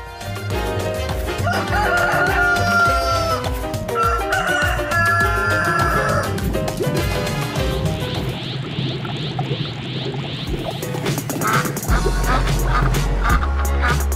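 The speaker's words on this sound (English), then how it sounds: "Rooster." A rooster crows loudly within a children's farm-animal song, the long call rising over bright music and backing instruments for much of the stretch.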